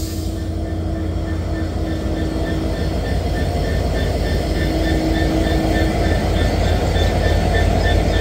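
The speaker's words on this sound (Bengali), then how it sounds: "আজকে বাংলাবান্ধা এক্সপ্রেসের নেতৃত্বে রয়েছে আমেরিকান জায়ান্ট লোকোমোটিভ" An American-built diesel locomotive of the 6600 series, number 6605, hauls the Banglabandha Express, a steady loud rumble and drone with faint rhythmic rail clatter and a sustained tonal hum, continuous throughout.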